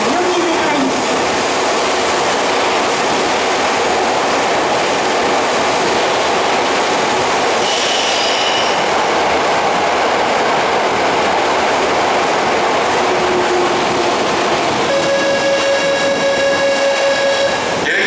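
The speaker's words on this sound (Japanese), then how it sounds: "3番線に到着の電車は代々木上原行きです" A JNR 203 series train rolls into Tokyo Metro Chiyoda Line Hibiya Station with a loud, steady rumble and rattling wheels, then a long electronic tone sounds near the end.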